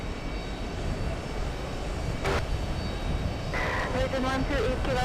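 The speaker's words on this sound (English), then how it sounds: "Oh, there goes the A380" Steady broadband roar of Airbus A380 aircraft engines heard from an airport lounge, continuous and fairly loud, with a voice talking over it near the end.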